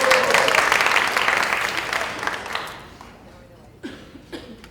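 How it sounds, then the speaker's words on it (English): An audience applauding a straitjacket escape performer at a motivational event, loud clapping that fades over a few seconds into scattered claps and a cough or two. "And a round of applause for Bo Jennings"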